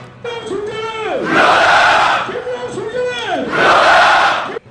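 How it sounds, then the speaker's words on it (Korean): Protesting students and seminary emergency committee members chant in unison outside a chapel on a Korean university campus, calling for the university president's resignation; two loud, rhythmic bursts of crowd shouting, each preceded by a single voice leading the call. "김영우 총장 사퇴를 외치는 함성이 종신대 양지 캠퍼스에서 울렸습니다"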